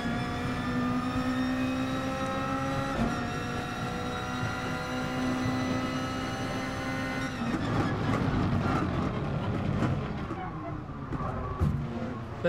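A race car in GT Sport pulls out of the pits at the Red Bull Ring, first a steady, held engine drone, then rising revs under acceleration with gear changes, loud and close, and no talking.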